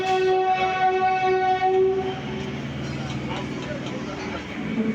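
A train near Liluah station, bound for Howrah, sounds a loud, close horn for about two seconds. A steady rolling rumble of the carriages follows.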